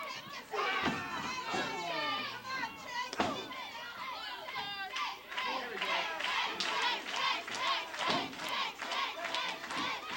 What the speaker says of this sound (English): This crowd trying to cheer on Chase Stevens.